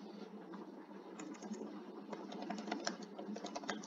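Rapid clicking of keys on a computer keyboard, a steady dense patter of keystrokes with light mechanical clatter, close by and fairly quiet, with no voices.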